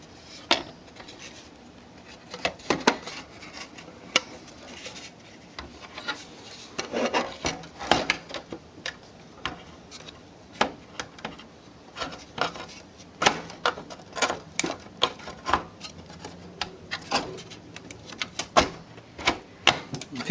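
Graphics card pressed into a desktop PC's expansion slot as the slot clamp snaps shut, with a string of dry plastic clicks, taps and rubbing scrapes at close range amid cable handling, no talking.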